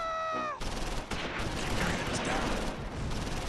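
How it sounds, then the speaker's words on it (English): StuG assault gun firing rounds into a two-story building in the Close Combat IV World War II strategy game, a sharp blast breaking in after a brief tonal sound, followed by rumbling, crackling battle noise. "Stug is helping. He's putting big rounds into that 2-story."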